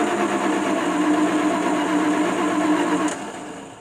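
Dodge D600 truck engine cranking over and running close by with a loud, steady mechanical drone and rhythmic chug for about three seconds before it suddenly drops off.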